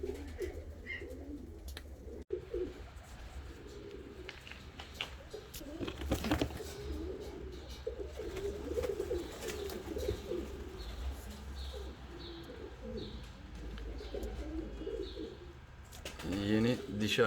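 Fancy and costume pigeons coo in soft, repeated low calls, steady and fairly close, with occasional chirps and faint rustling around them.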